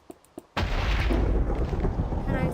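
Thunder during a storm in Minecraft, a few faint taps, then a sudden loud crack that rolls into a heavy sustained rumble.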